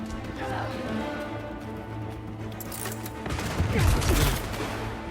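Gunfire in the Spider-Man 2 video game on PS5, a dense volley of shots swelling loudest near the end, mixed with game voices talking over a busy action soundscape.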